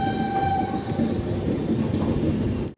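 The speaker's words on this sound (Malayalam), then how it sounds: "645 കിലോമീറ്റർ യാത്ര ചെയ്ത് ട്രെയിൻ ഇപ്പോൾ ഇതാ ബാംഗ്ലൂരിലെ ബനസ്വാടി റെയിൽവേ സ്റ്റേഷനിലേക്ക് എത്തി" A train rolls into Banaswadi railway station in Bangalore with a steady rumble and a faint wheel squeal. No voices are heard.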